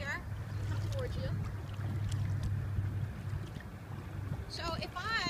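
Kayak paddle strokes splash through the water in a steady rhythm under continuous wind noise, with a voice talking briefly near the end.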